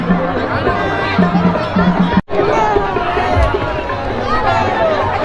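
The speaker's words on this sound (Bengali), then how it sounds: "ভিড় কিন্তু বন্ধুরা সেই লেভেলের হয়েছে মানে প্রচুর ভিড়" A large crowd chatters at a busy tourist spot during a festival, a dense close babble of many overlapping voices. The noise cuts out briefly midway.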